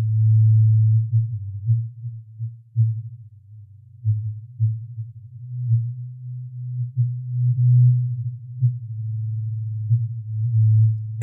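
A mix with a heavy EQ boost around 114 Hz gives a thick, booming low-end drone with a steady pulsing beat. It sounds distorted and overpowering, loud and continuous with no voices.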